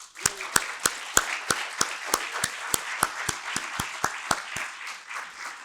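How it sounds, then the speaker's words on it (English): Audience applause for volunteers at a nonprofit mental health annual meeting: a small crowd claps in a steady, sparse rhythm of distinct individual claps that continue evenly for several seconds without talk. "Let's give a round of applause for all of our volunteers once again."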